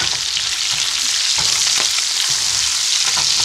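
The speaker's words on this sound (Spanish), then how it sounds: "no vamos a dejar de moverlo de saltear que se despeguen cada una de sus partes" Chopped pieces of chorizo saute in hot fat in a pan for stuffed rice, a steady loud sizzle with faint stirring scrapes and no talk.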